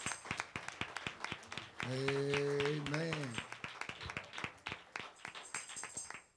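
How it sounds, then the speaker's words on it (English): Church congregation clapping hands in a steady rhythm, loud sharp claps throughout, with a brief sung or held musical tone in the middle and a voice saying a word. "Clap your hand, give God a praise."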